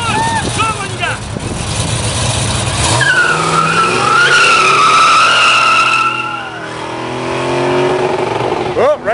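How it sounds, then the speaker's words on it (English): Dodge Challenger R/T 446 pack V8 revving hard off the rev limiter and spinning its tires, loud screeching squeal and rising engine howl close by leaving a muscle car show, with people talking over it. "Oh, right off the rev limiter."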